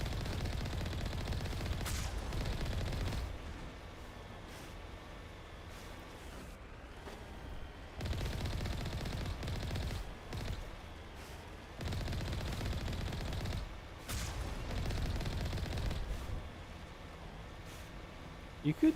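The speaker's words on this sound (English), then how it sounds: "they're already shooting at me." Mass Effect 1 Legendary Edition firefight on Feros with enemy weapons firing in sustained bursts and booms, dense rumbling combat noise that ebbs and returns throughout.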